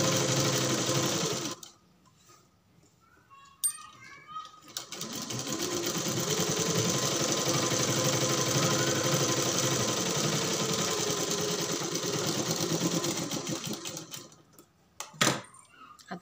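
Sewing machine stitching the folded lining of a three-quarter blouse sleeve, with a short burst, a pause, then a long steady run of loud continuous whirring that stops near the end, followed by a brief clack.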